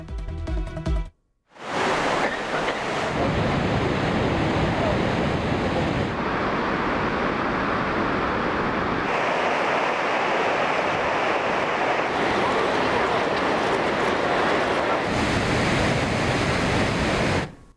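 Partly frozen Niagara Falls roars with water and ice in a loud, dense, unbroken rush. A brief dropout comes near the start, then the roar runs steadily to the end.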